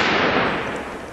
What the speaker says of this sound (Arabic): هي كلها طلقات من عندك